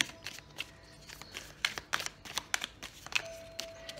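Tarot cards shuffle in a series of soft, papery riffles and slaps, close and quiet, with no talking during the shuffling.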